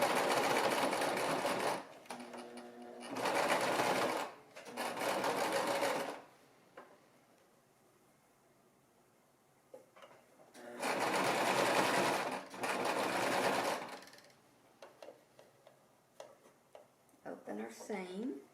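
A sewing machine stitches a baby romper seam in several short bursts, each a couple of seconds long, separated by quiet pauses with a person talking between runs.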